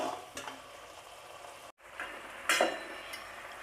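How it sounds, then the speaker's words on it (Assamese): Masala half-frying in a pan for egg curry gives a steady sizzle, broken by scraping stirs and a brief pause before the frying hiss picks up again. "এনেদৰে কিছু সময় ফ্ৰাই হ'ব দিম, হাফ ফ্ৰাই"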